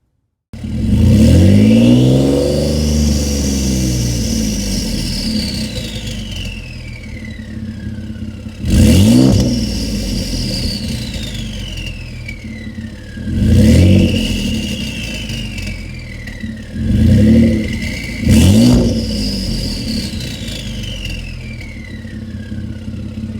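A Ford F-150 with the 3.5L EcoBoost engine, still without blow-off valves, revs hard in several bursts: one long climbing rev, then three or four shorter throttle blips, each sweeping up and falling back, loud and close.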